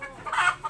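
A short, close cluck comes from a small flock of backyard pet hens being fed and watered, a single soft burst over quiet background.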